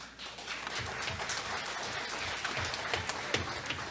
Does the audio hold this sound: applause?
yes